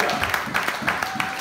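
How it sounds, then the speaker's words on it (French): A church congregation applauds with rhythmic, pulsing claps in a fairly loud, continuous burst, with voices mixed in. "Applaudissons pour Jésus."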